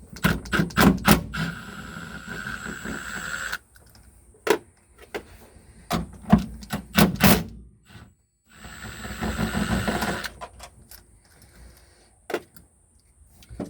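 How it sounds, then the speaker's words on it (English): An impact wrench zips off bolts on a BEAMS-engined AE86 being converted from track spec to drift spec for a hydraulic handbrake fit, sounding in several sharp, close bursts with short pauses and a longer whirring run between them. "just using the rattle gun for speed"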